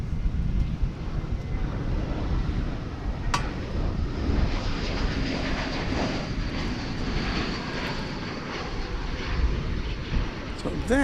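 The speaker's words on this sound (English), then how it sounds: "So that is the Lufthansa Dreamliner off to Frankfurt" Lufthansa Boeing 787 Dreamliner taking off from DFW Airport for Frankfurt, a broad sustained engine roar with wind buffeting that stays loud and steady throughout, brief tonal sweeps near the end and talk faintly underneath.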